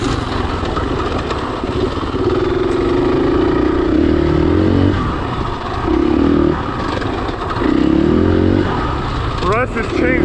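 KTM 500 EXC-F four-stroke enduro motorcycle engine, geared differently from stock, droning steadily while riding, with its pitch rising and falling as the throttle changes and a few quick revs near the end.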